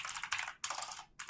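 Three quick bursts of computer keyboard typing while an email address is entered, close and fairly quiet, with short pauses between the clusters of keystrokes.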